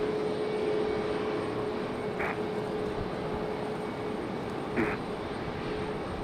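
An airliner departs on runway 1-2 at Raleigh-Durham International, a steady, fairly faint engine roar with a constant whine, distant and alone.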